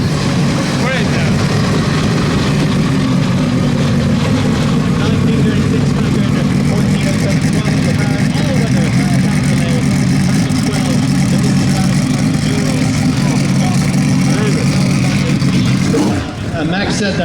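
A Porsche 917-10 race car engine runs at a car show, a loud, dense, continuous roar that holds steady before dipping briefly near the end, with voices faintly mixed in.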